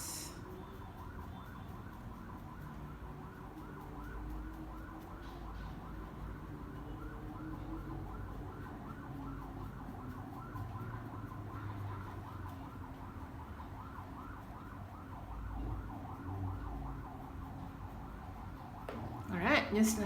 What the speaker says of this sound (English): I'm so sorry about the street noise.